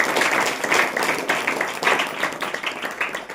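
A church congregation at a Saturday worship meeting claps together, a steady dense patter of many hands kept up throughout, loud and roomy, with faint voices underneath.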